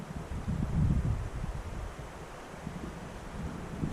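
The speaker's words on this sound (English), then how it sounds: "The wind is coming from a few different directions here." Strong, gusty wind buffets the microphone on a Canadian island, a rushing roar that swells early and then settles into a lower, steady rumble.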